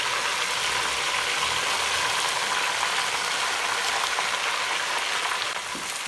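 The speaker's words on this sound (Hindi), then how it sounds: "और अब हम साथ ही शामिल कर देंगे इसमें चिकन" Marinated chicken frying in a pan for chicken pulao biryani, a loud steady sizzle and crackle holding unbroken throughout, close and without talk.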